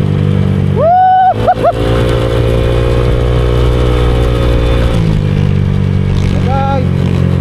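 A Honda Click scooter with a 59mm bore-up engine revs hard in a few sharp, rising bursts over a loud, steady idle, then settles with a lower drone and another short rev near the end, close and loud.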